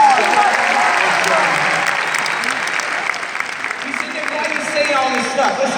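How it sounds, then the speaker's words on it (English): Steady audience applause fills a church or stage gathering, a dense, close wash of clapping that holds evenly for several seconds with a little crowd noise mixed in. "Let's give him a round of applause."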